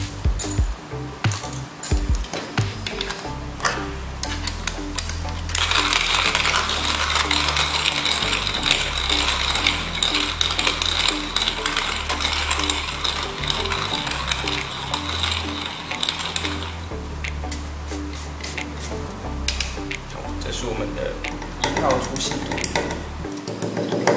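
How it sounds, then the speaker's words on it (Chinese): A Driver dual-bearing hand-crank coffee grinder set to its finest grind, producing a steady ratcheting, gritty mechanical churn that grows louder and brighter partway through, with a voice speaking at times. "那我们一开始会先将它磨到我们最细的，就是一号粉"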